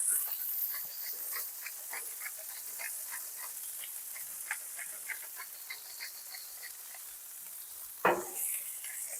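Smash burgers sizzle on a hot griddle with a steady, fairly soft hiss and crackling pops, plus one sharper scrape or clatter near the end, without any talking.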